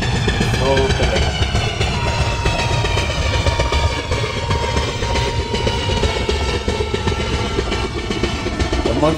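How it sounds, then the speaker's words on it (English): The 12433 Chennai–Nizamuddin Rajdhani Express running at speed on the tracks, a loud, continuous rumble with rhythmic clattering of the wheels and a steady whine, with someone talking over it. "Right now our train is going in 85 km per hour."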